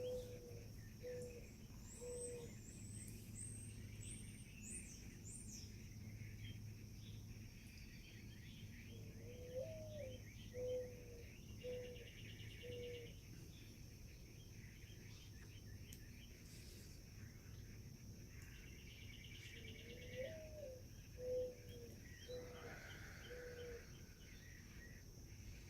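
Martins calling outdoors, with repeated short chirping and warbling phrases over a steady insect and crickety background hiss, moderately distant and continuous without speech.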